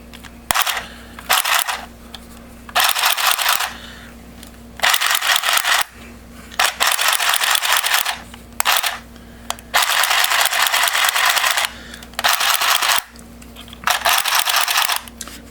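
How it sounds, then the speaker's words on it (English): An OXGORD handheld sewing machine stitching through fabric, running in loud, rapid mechanical bursts of one to two seconds separated by short pauses, close up and with no voices. "We threaded the needle of the machine. So now I'm gonna go ahead and run this through a little bit."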